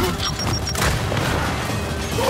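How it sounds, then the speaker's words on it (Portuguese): A fragmentation grenade blast in the Gears 5 video game, a loud, dense booming roar that fills the whole stretch with crashing, rumbling noise and no clear pause. "Vai explodir! Lançando granada de fragmentação!"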